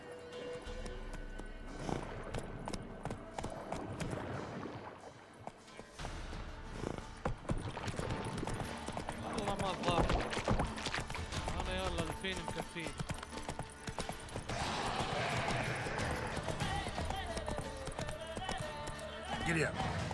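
A horse galloping in the video game The Witcher 3: a steady run of clip-clop hoofbeats that continues under game music and people talking.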